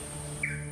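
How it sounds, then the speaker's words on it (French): A hornbill in a swamp forest in Benin gives one brief, rising call. It sits over a steady hum of forest background. "Là, on entend le cri du calao longiband"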